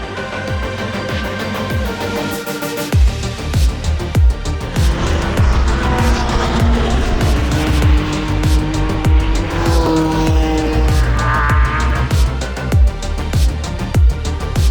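A Honda Civic race car in qualifying at Castle Combe circuit roars continuously from inside the cabin, its engine note climbing and dropping through gear changes, with brief tire squeal and steady loud road rumble.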